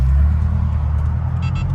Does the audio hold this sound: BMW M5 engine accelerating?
yes